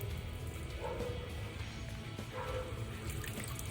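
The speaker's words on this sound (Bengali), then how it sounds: "এরকম একটা ঝুড়ি দিয়ে আমি আপাতত রেখে দিই, জলটা ঝরাই" Water draining from boiled noodles held in a basket, a steady trickling splash running continuously under faint room background.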